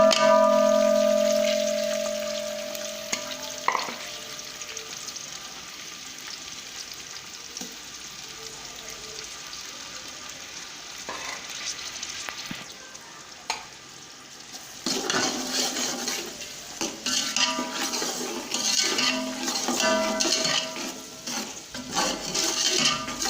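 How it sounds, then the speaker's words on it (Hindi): Onions fry and are stirred in hot ghee for a bhindi dish, starting as a steady moderate sizzle with a clink, then rising to a louder, busier crackling hiss with scraping in the second half. "घी हमारा गर्म हो चुका है। अभी इसमें हम प्याज डालेंगे।"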